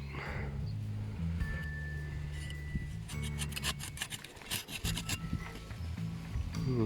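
Intertool HT-3145 hand saw cutting through wood, a steady rasping stroke sound that continues throughout, fairly quiet and close, with no talking.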